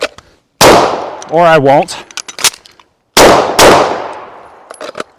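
Gen 5 Glock 19 pistol fired in quick strings at close range: two loud sharp reports with ringing echo, a brief voice, then scattered clinks and taps before another loud pair of shots.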